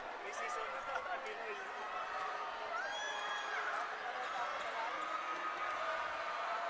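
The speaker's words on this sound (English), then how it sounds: "That's the crowd here inside the Playtime Filoil Center." A basketball crowd fills the Playtime Filoil Center arena during a college game, a dense steady roar of many voices with scattered whoops and shouts, moderately distant and even in level.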